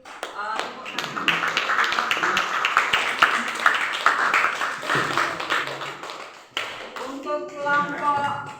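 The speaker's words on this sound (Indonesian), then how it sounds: "Kita beri tepuk tangan." Students in a classroom lesson clap for a student group, a dense burst of quick hand claps running about seven seconds before fading, with voices talking over and after it.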